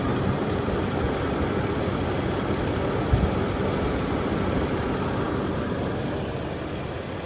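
A squatted Toyota Tacoma pickup idles steadily at close range, its low broadband engine rumble even and unbroken from start to finish, with one faint knock partway through and no talking.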